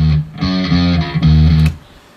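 Gritty, overdriven bass guitar through a Rock Reverb amp model plays a short riff, loud and close, then cuts off and rings out into quiet.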